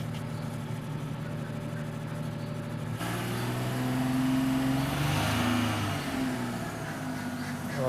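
A BMW engine idles steadily, a low continuous hum that rises into a brief rev midway before settling back, heard close with no talking.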